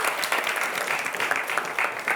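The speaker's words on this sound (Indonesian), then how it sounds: "boleh kita berikan tepuk tangan" Audience applause fills a high school quick-answer quiz competition, steady and fairly loud throughout with no talk over it.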